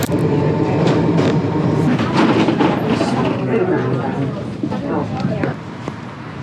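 A Milan tram rolls along with steady rail rumble, rattling and thumps throughout, loud and close from inside, while someone talks over it.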